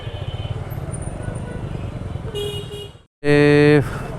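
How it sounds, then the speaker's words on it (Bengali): Busy town street traffic at Majampur on a night motorcycle ride, with a steady engine and road rumble, then a loud, sustained car horn blast after a brief gap. "মজমপুরে সব সময় ট্রাফিক থাকে।"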